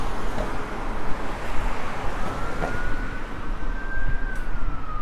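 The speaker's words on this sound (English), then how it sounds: "Here's a siren coming" An emergency vehicle siren wails along Main Street in Kernersville, North Carolina, a thin rising-and-falling tone heard at a distance over steady traffic rumble, growing slightly louder as it approaches.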